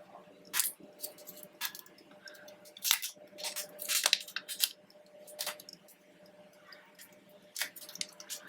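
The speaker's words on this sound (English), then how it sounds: "So I'll just remove this plastic cover from here." Protective plastic film peels off a Samsung Galaxy A72 phone, giving soft crinkles and scattered crisp snaps and rustles close by, with quiet gaps between them.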